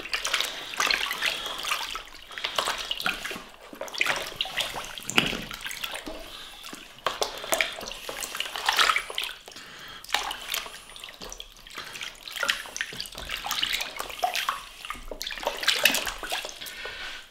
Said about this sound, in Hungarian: Minden megmossuk a csapvíznél is, ahol folyik a víz.